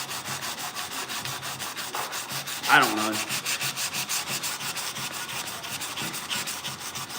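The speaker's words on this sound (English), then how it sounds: "So I'm sanding this with 180" Close, rhythmic rubbing strokes of 180-grit sandpaper working over a metal 1968 C10 grill shell, steady and repetitive, with a brief spoken remark in the middle.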